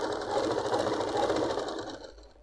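A sewing machine runs continuously, stitching fabric for palazzo pants, a fast, even mechanical whir close by that slows and fades out near the end, with no talking.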